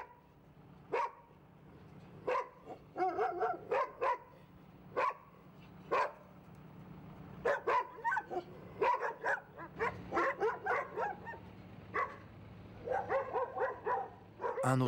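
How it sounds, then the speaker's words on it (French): Stray dogs in the port of Piraeus bark repeatedly in sharp, irregular bursts, sometimes overlapping in quick runs, with a low steady hum beneath. "Ici, on est accueilli par des chiens errants."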